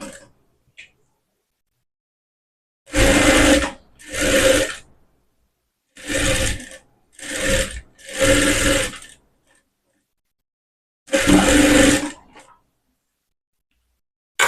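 A sewing machine stitches a blouse in six short, close bursts of whirring needle action separated by quiet pauses, with no voices over the machine.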